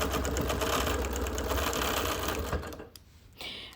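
A sewing machine quilts a Nearly Insane sampler quilt, running in a loud, continuous close whir that stops near the end, followed by a brief mechanical clunk and short restart.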